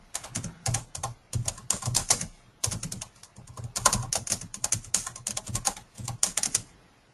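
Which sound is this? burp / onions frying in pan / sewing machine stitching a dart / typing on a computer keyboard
typing on a computer keyboard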